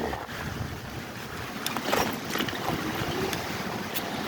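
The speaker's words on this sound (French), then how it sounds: "il y a un très très fort vent" Very strong wind roars steadily against the microphone while cycling, a constant rushing noise with gusty swells and no voices.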